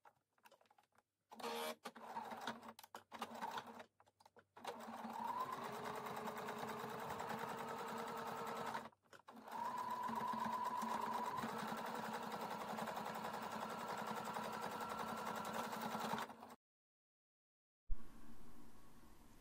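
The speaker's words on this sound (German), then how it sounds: "Dann werden die Teile aufeinander genäht." A sewing machine stitches fabric pieces of a trapezoid boxy bag together with a 1 cm seam allowance, whirring close up in short bursts at first, then in long steady runs before stopping near the end.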